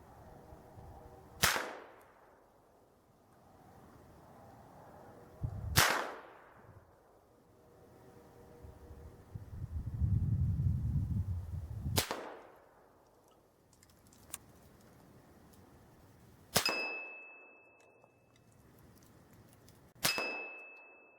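Five loud rifle shots from a Smith & Wesson M&P .308 with a 4-12x50 scope ring out at a snowy range, spaced several seconds apart, each a sharp crack with a brief decaying echo.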